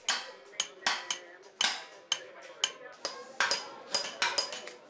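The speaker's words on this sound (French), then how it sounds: "Quelques rues plus loin, les marteaux résonnent." Hammers ring out in a street of blacksmiths and coppersmiths in an Eastern bazaar, a dozen sharp metallic strikes in an uneven rhythm, each leaving a bright ringing tail over a low bustle of background activity.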